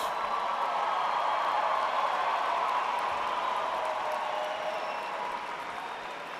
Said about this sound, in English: Turn around and applaud the men and women who were there for you when you needed them most.